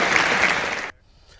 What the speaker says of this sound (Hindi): जरा तालियां बजा के यशोधरा जी का स्वागत करें